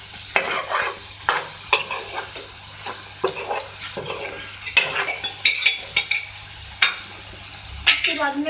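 Spatula stirring and scraping masala with red chili powder as it fries in a pan, repeated close, loud scrapes over a steady sizzle, with no talking.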